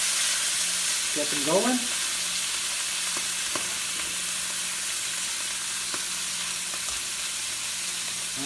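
Steaks sizzling in hot peanut oil, a steady broadband hiss and crackle close up with a short spoken line near the start and occasional spatter pops.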